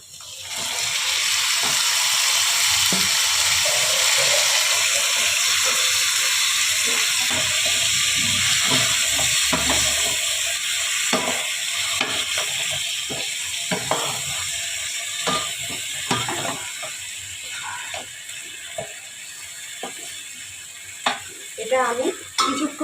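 Marinated chicken for chicken maharani drops into hot oil in a pan, setting off a loud, steady sizzle and hiss that slowly softens. Scattered stirring clatter and a few sharp knocks of utensil on pan follow toward the end.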